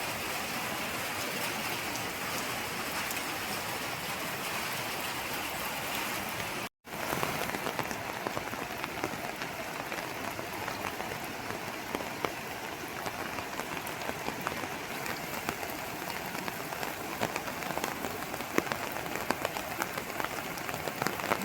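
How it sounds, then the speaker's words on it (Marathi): Steady, dense cloudburst rain pours down continuously in Nimbalak village, a heavy wash of drops drumming on surfaces with no voices. "किती एवढा पाऊस पडतोय मित्रांनो बघा"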